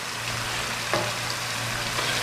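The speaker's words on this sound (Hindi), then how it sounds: "इसको थोड़ा अच्छी तरह भून लेंगे।" Small diced potato and carrot pieces fry in oil in a pan for vegetable pulao, a steady close sizzle with a brief stirring scrape partway through.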